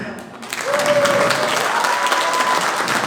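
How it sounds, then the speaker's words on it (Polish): Audience applause greeting a Polish illusionist as he is introduced on stage, a dense, steady wash of clapping that swells quickly and holds loud throughout, with a faint tonal whistle riding above it. "Dziękuję za tę spontaniczne brawa."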